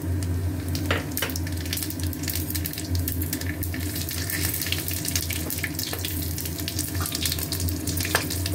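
Tempering spices dropped into hot oil in a kadai wok, a dense, steady, loud sizzle and crackle close by, with a few sharper pops scattered across it and no speech.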